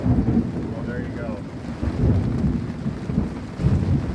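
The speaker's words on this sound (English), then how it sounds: "Some really good thunder also." Low rolling thunder rumbles through steady rain during a storm, heard from aboard a sailing yacht, and a voice speaks briefly.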